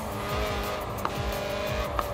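A 1990s Lotus Elise roadster in Forza Horizon 4 drives with a steady engine drone and squealing tires, with a couple of brief sharp clicks over the continuous car noise.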